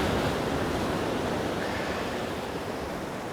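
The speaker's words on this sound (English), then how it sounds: "the waves are hitting here, and then sometimes they scroll along there" Waves break against the shore among groynes at dusk, a continuous hissing wash of surf that holds steady and fairly soft throughout, with no talking.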